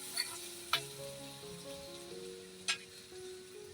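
Cumin and green chili paste sizzle in hot ghee, a soft steady frying hiss with a few sharp clinks of a spoon against the pan and a faint tonal hum underneath.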